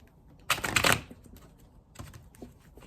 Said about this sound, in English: And then I'm even going to shuffle them.